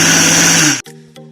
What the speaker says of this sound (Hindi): अलसी को हमने ग्राइंड कर लिया है।